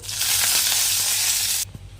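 Curry leaves crackle and sizzle loudly in hot oil as tempering for chutney, then the spattering cuts off abruptly, leaving a faint hum.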